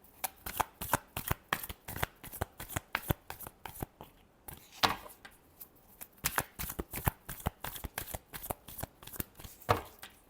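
Tarot cards are shuffled by hand in quick, crisp riffling bursts, close and fairly quiet, repeating in a steady rhythm with a short pause midway.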